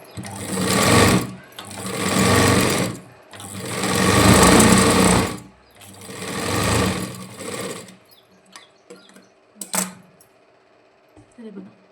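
A sewing machine stitches a blouse neckline in four loud, close bursts of rapid whirring, each about a second or two long, followed by quieter handling clicks and a voice.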